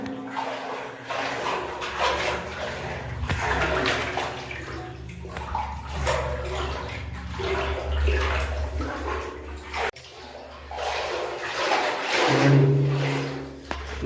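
Water pours and splashes steadily into a concrete sump tank that is being cleaned, a continuous close rushing gush, with a dog faintly heard in the background.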